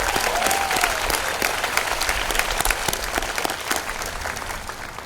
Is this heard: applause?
yes